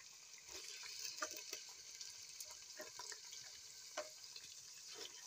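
Chicken breast slices frying in a pan, a faint steady sizzle with small crackles and pops, quiet and close.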